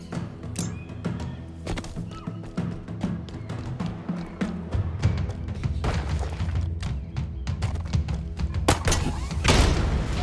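In Halo Infinite, a plasma cannon fires a rapid, uneven series of heavy thuds and sharp bursts, with impacts growing denser and louder toward the end.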